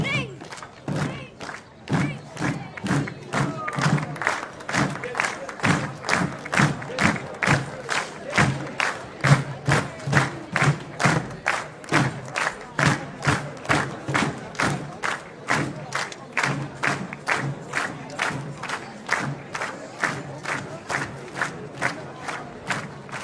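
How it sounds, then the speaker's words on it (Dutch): At a children's parade, a crowd claps and cheers while a band's drums thump in a steady marching beat, dense and continuous throughout, with voices mixed in. "Applaus voor de gereformeerde basisschool Benjamin uit Brunsum met Liam en Nicky als koningspaar."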